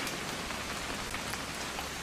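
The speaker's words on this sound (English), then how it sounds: "It's gonna rain the whole weekend, isn't it?" Steady rain pours down in the video game What Remains of Edith Finch, a dense, even hiss of many drops hitting surfaces, heard on its own with no talk over it.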